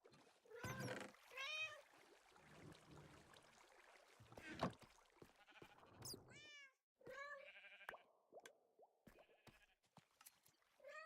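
In the Minecraft video game, a cat gives a series of short, high meows mixed with other sharp game noises and scattered bleat-like calls, loud then quieter, in separate bursts with gaps of silence between them.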